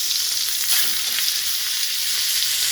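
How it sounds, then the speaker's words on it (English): Fish sears to a golden brown in a hot pan, giving a loud, steady sizzle that fills the whole moment with no voices over it. "A nice golden brown sear on your fish."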